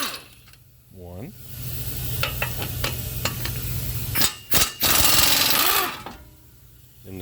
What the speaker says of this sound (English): going to take the two caliper bracket bolts off right here and on the bottom